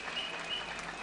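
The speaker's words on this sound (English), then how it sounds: "Let's give him a clap." An audience at a memorial gathering claps, a brief, fairly faint patter of hands heard from a distance for about a second.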